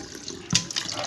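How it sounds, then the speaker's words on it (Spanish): Water poured over gas stove burner parts, a brief splash of running water that swells for a moment in the middle, close and fairly quiet, with no voices. "Echamos agüita."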